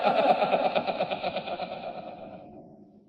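A voice in a German crime radio drama rings out with heavy echo, its repeating pulses fading steadily into silence over a few seconds.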